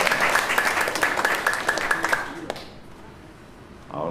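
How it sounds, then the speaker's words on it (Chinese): A church congregation at a Sunday communion service claps to welcome a guest. The brisk applause lasts about two and a half seconds, then stops abruptly, leaving a quiet hall. "那我们要用掌声来欢迎他"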